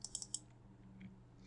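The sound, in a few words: typing on a computer keyboard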